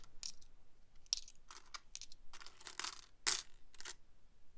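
Assorted collectible coins, including old 10p pieces, dropped one after another into a pot, a series of bright metallic clinks and jingles at close range with quiet gaps between them.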